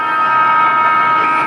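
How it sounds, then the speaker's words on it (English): Siren sounding at an AFL football match: a loud, steady, continuous horn-like tone that holds at one pitch throughout. "Hit that siren, mate."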